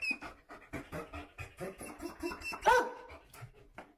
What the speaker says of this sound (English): Yeah, that's a happy bark.